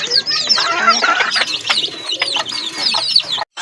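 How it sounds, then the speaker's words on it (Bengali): A desi hen clucks at a market stall selling native chickens and pigeons, a close run of short clucks and calls mixed with other birds cooing and chattering nearby. "এখানে কিন্তু আরেকটা মুরগি আছে, দেশি মুরগি।"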